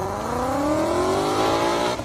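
Cookie Monster Blue Ford Mustang GT launching in launch mode at an airstrip drag race, engine note climbing steadily in pitch as it pulls away, loud and close.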